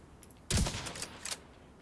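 Suppressed gunfire in a video game: a muffled burst of shots, then a second softer burst about a second later, fairly close, with no talking.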